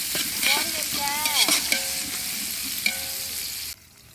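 Onions sauté in a pan for a large batch of chicken gravy, a loud close sizzle with scraping stir strokes and a few squeaky tonal scrapes, ending abruptly into quiet.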